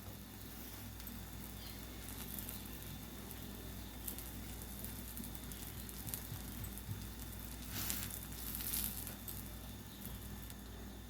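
A bread omelette fries in a pan with a continuous low sizzle and soft crackling patter close by, steady throughout with a few brief louder hisses.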